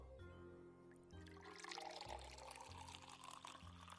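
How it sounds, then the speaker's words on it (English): Red wine poured shakily into a glass in a home kitchen, a steady liquid stream running for several seconds beneath a low sustained musical drone. "Shakily, you poured him a glass of wine."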